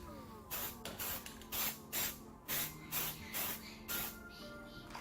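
Short repeated bursts of spray paint hit an Xbox One controller, about eight close hissing blasts in an even rhythm with brief gaps between them.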